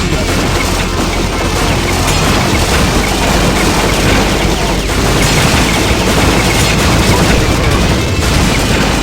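Heavy machine gun fire in the video game Metal Slug 3D, a loud, continuous wall of rapid shots and blasts that never lets up, with a voice talking underneath.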